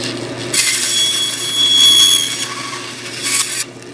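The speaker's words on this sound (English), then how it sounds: "Turn on the saw, slide the dowel up against that stop," Powered saw in a jig slicing through a wooden dowel, a loud close whine that rises as the blade bites, then a second shorter cut before it drops back to idle, with no talk.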